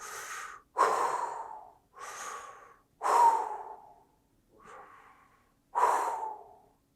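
A voice imitates the labored, heavy breathing of an unresponsive man slumped in a living room chair: six loud, rasping breaths with short pauses between them, each with a gasping, snorting edge, and no other sound.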